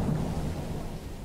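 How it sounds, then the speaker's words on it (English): Acid rain falling in the video game Alone With You, a steady low, rumbling wash of rain at an even loudness with no distinct drops and no talking. "It's a beautiful day, it's raining acid."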